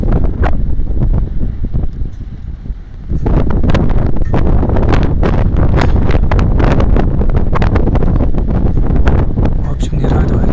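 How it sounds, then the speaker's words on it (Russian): Strong wind buffets the microphone outdoors in Novorossiysk, loud rumbling gusts that swell noticeably after the first few seconds and keep roaring with some rustling on top. "ветер продолжается. Так, вид прекрасно, но, как видите, просто сильнее ветер."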